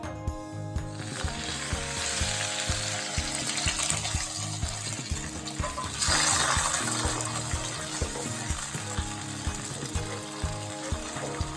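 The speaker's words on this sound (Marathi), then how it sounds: "कढई ठेवलेली आहे गॅसवर, तेल पण टाकलं त्याच्यात. आता हे टोमॅटो आपण शिजवून घेऊया" Finely chopped tomatoes frying in hot oil in a kadhai on a gas stove give a steady sizzle and crackle, with clinks and scrapes of a spatula stirring the pan throughout and a brief louder burst partway through.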